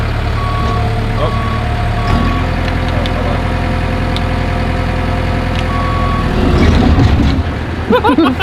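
Caterpillar D3K LGP dozer rumbling along with its engine throttled down, a loud steady diesel drone under a repeating electronic reversing beep, with a voice speaking near the end.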